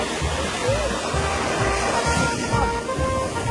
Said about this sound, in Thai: โอ้ ไม่ต้องตักแล้วน้ำไหลมาแล้ว